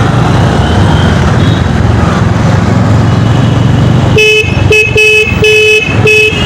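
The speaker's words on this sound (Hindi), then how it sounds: "ये देखो मैं हॉर्न बजा रहा हूँ," A motorbike horn sounds in a busy Khatima market, several loud, close honks in quick succession over the steady hum of traffic and crowd.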